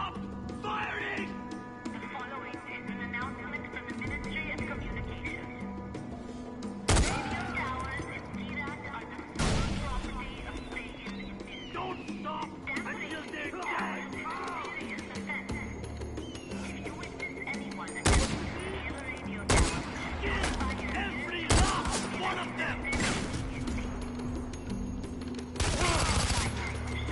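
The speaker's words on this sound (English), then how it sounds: "Don't stop firing!" Video-game gunfire in Far Cry: repeated loud shots and bursts crack out at irregular intervals over a busy background of ongoing combat noise, with voices heard amid the shooting.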